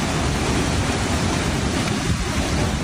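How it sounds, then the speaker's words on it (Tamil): Floodwater rushes through towns near the Vietnam border in southern China, including Fangchenggang, after heavy typhoon rain. It makes a loud, steady, broadband roar of churning water throughout, with no voices. "இதன் காரணமாக அந்த பகுதியில் பெய்து வரும் கனமழையால் வியட்நாம் எல்லைக்கு அருகில் உள்ள ஃபாங்செங்காங் உள்ளிட்ட நகரங்களில் வெள்ளம் கரைபுரண்டோடுகிறது"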